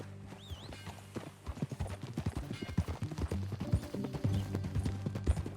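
Horse hooves clip-clop at a steady walking pace in Red Dead Redemption 2 gameplay, close and moderately loud, with a brief neigh or snort near the start and faint ambient game sound beneath.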